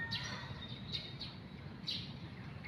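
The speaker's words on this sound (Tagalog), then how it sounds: "May uwak." A crow calls a few times outdoors near mango trees, short faint cries spaced about a second apart over a quiet background.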